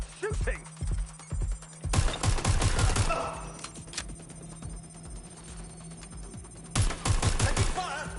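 Gunfire in Watch Dogs Legion's Resistance Mode, with bursts of automatic shots and sharp single cracks in two loud clusters amid other game sounds.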